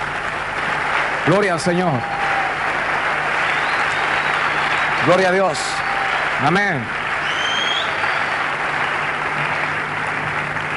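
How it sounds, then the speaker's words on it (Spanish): Audience applause fills a Christian worship gathering: a steady, dense wash of clapping runs throughout while a voice calls out praise over it. "Y eso sí se merece un aplauso, de veras."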